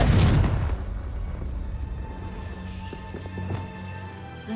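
A Confringo fire spell bursts in Hogwarts Legacy, a loud booming blast at the start that decays into a rumbling tail, followed by faint game ambience and light clicks.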